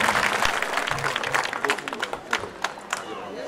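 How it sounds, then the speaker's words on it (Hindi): Audience clapping in welcome for police officers at a mushaira poetry evening in Govandi, dense applause at first that thins toward scattered claps, with a voice or cheer mixed in. "तालियां बजाकर स्वागत कीजिए आप लोगों"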